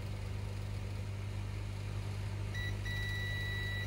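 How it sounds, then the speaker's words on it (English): A multimeter in continuity mode gives a steady electronic beep that starts briefly, cuts out for a moment, then holds on as a continuous tone over a constant low hum. "It should make a beep sound."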